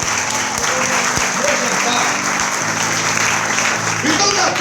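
Worshippers in a church break into sustained applause, a loud continuous clatter of many hands with a low hum of voices underneath throughout.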